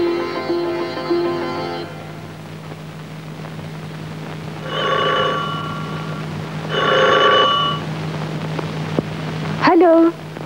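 A home telephone rings in repeated bursts of bell tones, loud and close, with pauses between rings and a click at the end, set in a 1979 Pakistani film.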